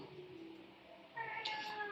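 A hungry cat gives a short, clear meow near the end after a quiet stretch of faint background hum, close and moderately loud.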